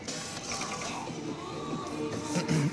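Motor of a toy chest claw machine whirs and ratchets as the claw moves, a steady mechanical grinding under faint arcade crowd noise, with no talking.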